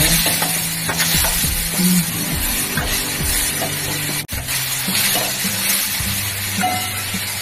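Cauliflower and coriander leaves are stirred into a gram-flour curry frying in a pan, a loud, steady close sizzle with scraping stirs throughout and one brief dip.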